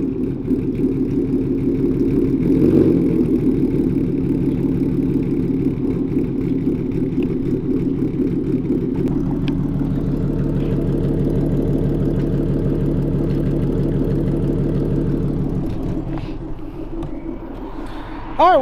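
Ford Mustang S550 with an Auto Mafia Racing Tommy Gun tune fires up from cold and settles into a loud, steady, throbbing idle that holds for most of the stretch, easing off slightly near the end.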